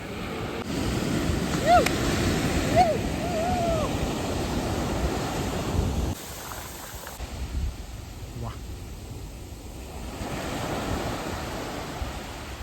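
Ocean waves wash ashore on a clean, secluded Konkan beach. The surf rolls as a broad continuous roar with wind buffeting the microphone, and the sound eases partway through before building again.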